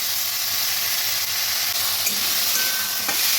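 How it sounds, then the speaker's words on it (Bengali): Steady, loud sizzling of potatoes sautéing with tomatoes in a hot pan, with occasional scrapes of a spatula stirring, no voices. "আলুগুলো আমি এইভাবে টমেটোর সাথে কষিয়ে নেব"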